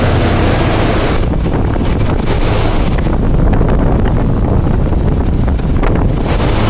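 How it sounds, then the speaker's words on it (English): A 2014 Rheem 5-ton heat pump running in cooling mode gives off a loud, steady, rushing roar from its outdoor fan and compressor, close by and with no voices. "It's a heat pump."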